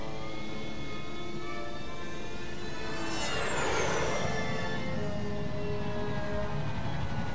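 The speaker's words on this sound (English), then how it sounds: "Guess we're taking the jet." Jet aircraft taking off in the video game Psychonauts, a loud continuous roar with a rising whine that sweeps upward midway and builds in intensity, with no talking.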